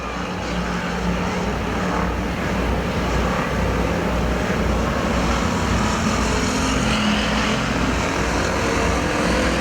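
Factory stock cars, Camaros among them, race at Perris Auto Speedway in a dense, continuous engine roar that stays loud and steady, several cars blending together into one dull rumble.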